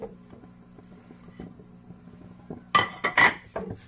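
Chopped dates and almonds are stirred into roasted coconut in a pan: a low background hum, then a few sharp, close clatters of a spoon against the metal pan.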